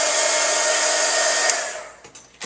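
A heat tool blows a loud, steady hiss to dry craft ink, then cuts off after about two seconds, leaving a few faint clicks and handling noises.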